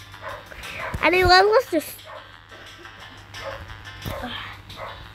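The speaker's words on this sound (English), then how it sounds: "Oh, my dog is barking." A dog yips and barks in a short high-pitched burst, followed by a whimper, while a person talks nearby.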